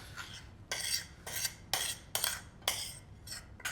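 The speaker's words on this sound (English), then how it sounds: "So now I'm going to sieve the blacking sauce to remove the little pieces." Blacking sauce for a scallop dish pushed through a metal sieve, giving a run of short, sharp scraping and clinking strokes in a steady rhythm, close and fairly quiet, with no talking.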